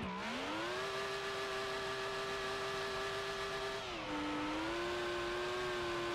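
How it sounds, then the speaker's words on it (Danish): A car engine in the game BeamNG holds a steady, high revving drone, then dips briefly in pitch before settling back to a constant whine. "Prøv at høre min motor!"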